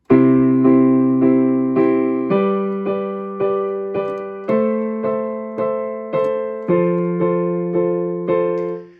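Solo piano chords moving through a I–V–vi–IV progression in root-position triads, struck in steady repeated pulses with each chord sustained and decaying, loud and close with no voices.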